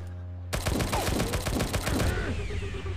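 Rapid automatic gunfire in the mobile shooter Mejor Gun 2, fired at an enemy's shield: a dense burst of loud close shots lasting about one and a half seconds after a quiet start, followed by ringing impact and ricochet tones.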